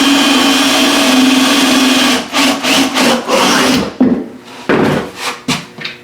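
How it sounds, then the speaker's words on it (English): A power drill boring a pilot hole in a 1937 Studebaker chassis whirs steadily for about two seconds, then runs in several short, stuttering bursts with brief pauses between them, close by. "I'm drilling a pilot hole."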